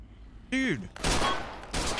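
Modded Fallout 4 gunfire, a burst of rapid shots following a brief synthetic warbling tone, two loud dense volleys close up with a short gap between them.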